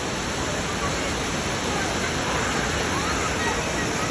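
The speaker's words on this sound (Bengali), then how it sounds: "ঝর্ণার অনেক শব্দ শোনা যাচ্ছে হয়তো বা" After heavy rain, a waterfall at Jaflong roars in a steady, dense wash of rushing water, loud and unbroken throughout.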